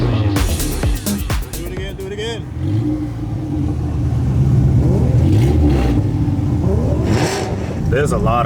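A boosted Honda Civic on a highway at night, its engine revving and accelerating loudly nearby with rising and falling pitch, mixed with other passing car engines, while people talk.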